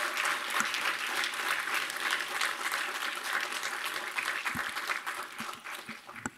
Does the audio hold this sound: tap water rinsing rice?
no